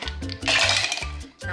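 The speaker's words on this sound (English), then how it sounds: "Put a little bit of ice in here." Ice goes into a margarita shaker, giving a short clatter of cubes knocking against the shaker with clinking hits in quick succession, close and fairly loud.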